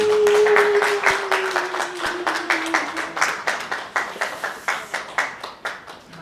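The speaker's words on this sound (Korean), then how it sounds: "여러분 박수." Audience at a workshop in Busan applauds to welcome a district council member to the stage, brisk clapping that thins out into a few slow, evenly spaced claps toward the end, with a brief voice at the start.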